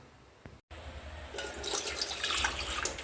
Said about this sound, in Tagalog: ilagay po ang isang tasa ng tubig sa kaserola na paglulutuan